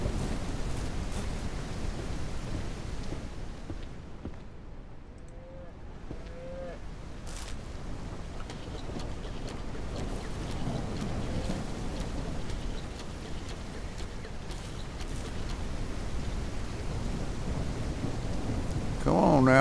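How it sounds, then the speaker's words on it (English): Steady, heavy rain from a thunderstorm in the Ranch Sim farming game, with low rolling thunder rumbling under a dense wash of noise that grows slightly louder toward the end. "And it's gonna storm."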